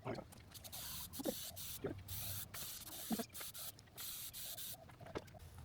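Black paint sprayed onto the windows of a Toyota Coaster bus, faint short bursts of hiss from a spray can repeating in an uneven rhythm, with soft handling noises and quiet background hum between them.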